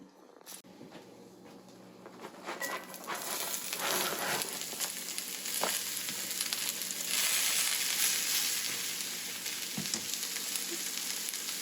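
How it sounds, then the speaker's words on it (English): Chopped cabbage sautés in a pan on a stovetop, a steady, close sizzle that builds and holds. Scattered sharp clacks and scrapes from stirring break through it. "chopping up a cabbage, which he's gonna go ahead and saute on the stove"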